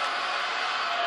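Crowd cheering for Robin at a wrestling match, a dense sustained roar of many voices, loud and continuous over the short moment.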